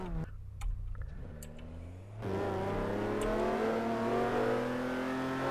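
Cars rev and race in the game Garry's Mod, starting with a quieter idle and ticking, then a sharp surge into a loud sustained engine roar with rising pitch as the vehicles accelerate away.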